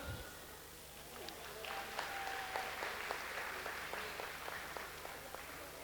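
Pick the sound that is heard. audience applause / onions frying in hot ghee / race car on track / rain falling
audience applause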